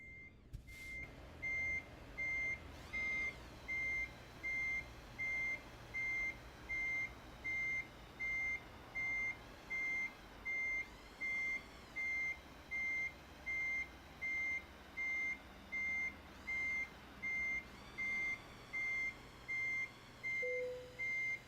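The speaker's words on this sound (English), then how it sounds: "I've done forgot how to reverse a truck" Regular electronic reversing beeps from an electric truck in a driving video game, a steady pulsing tone repeating about once per second over a low engine hum, no talk.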